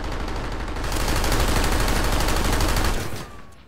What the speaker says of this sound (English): Oh, now I'm gonna shoot it for sure.